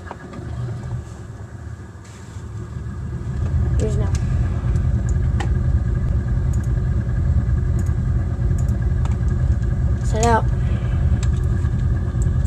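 A floatplane's propeller engine starting and running in Flight Simulator X, a low rumble that swells after a few seconds into a loud steady drone, with brief tonal beeps and chirps over it.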